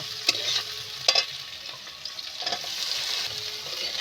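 Tomato frying in a pan for vegetarian chickpea ghugni with green chillies, a close, steady sizzle with a few scraping stirs and knocks of the spoon, no talking.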